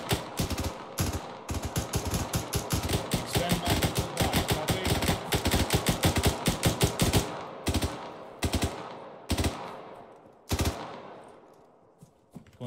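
Rapid machine gun fire in Arma 3 rattles in long close bursts, then thins to scattered single shots and short volleys toward the end, loud and without talk.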